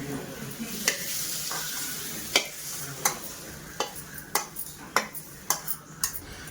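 Mutton methi masala is stirred and fried in a pan: a steady sizzle runs underneath while a spoon scrapes and taps against the metal in quickening strokes, close and clear, with no talking.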